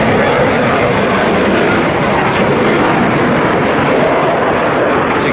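Supersonic all-weather carrier-capable multi-role fighter jet passing over the airfield at the Wings Over Illawarra airshow, a loud, continuous broadband jet roar that fills the whole clip without letting up.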